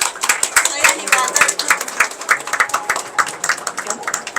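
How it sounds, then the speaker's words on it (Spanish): An audience at a book presentation at a book fair breaks into dense, lively applause, many hands clapping rapidly and continuously at close range for several seconds. "Vamos a recibir entonces con un fuerte aplauso la presentación del libro Desafiemos la gravedad"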